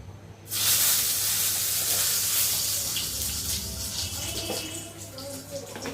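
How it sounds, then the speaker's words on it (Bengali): Dried red chilies and bay leaves frying in hot oil for a mutton curry tempering, a loud, steady broadband sizzle that flares up after a quiet start and holds for several seconds, with a low hum beneath. "শুকনা মরিচটা ভাজা হয়ে গেছে, এখন তেজপাতা দিয়ে দিচ্ছি"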